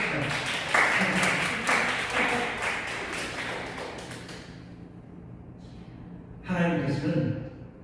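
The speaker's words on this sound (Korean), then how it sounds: "우리 박수 한번 경기해 주십시오" A church congregation bursts into applause after a sermon remark, dense clapping for about four seconds before fading, followed by someone speaking.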